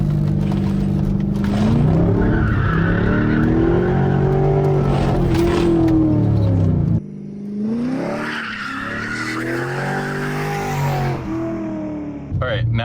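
A C5 Corvette spins out as its engine drones and revs rise and fall under sustained, loud tire squeal, then the skid breaks off abruptly before the engine picks up again with more squealing.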